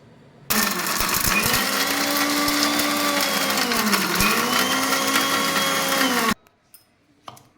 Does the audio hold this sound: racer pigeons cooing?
no